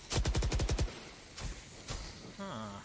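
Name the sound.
gunshot from a video game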